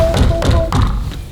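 Knocks on a wooden door painted to look like metal: three dull, woody taps spaced evenly a few tenths of a second apart, close and fairly loud, with no talk over them.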